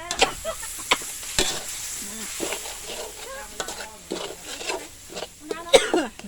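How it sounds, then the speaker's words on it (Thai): Mushroom chili paste is stir-fried in a pan with steady sizzling and scraping strokes of a utensil, close by, while someone talks and coughs over it. "ค่อยผัดไปนะคะ"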